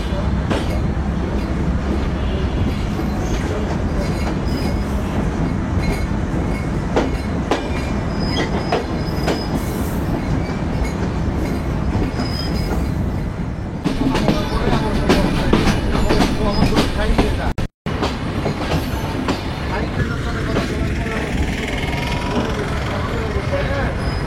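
Aboard a passenger train running from Dhaka towards Benapole, a loud continuous rumble of wheels on rails carries rhythmic clickety-clack and occasional squeals, with a voice talking over the din.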